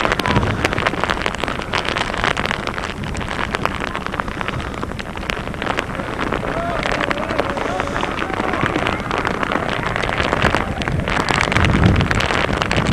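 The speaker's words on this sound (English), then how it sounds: "Had we known it was going to rain like this" Heavy rain pours down steadily, a dense hiss with wind buffeting the microphone throughout.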